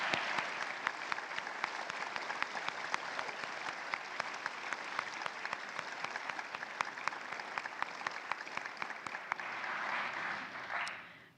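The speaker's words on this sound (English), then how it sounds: "Let's give a round of applause to them" Audience applause at a Cum Laude induction ceremony, a long, steady patter of many hands with a few sharp individual claps standing out, fading away at the very end.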